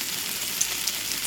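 Garlic frying in cooking oil in a tiny miniature cooking pan gives a steady, soft, hissing sizzle with faint scattered pops, continuous and unaccompanied by voices.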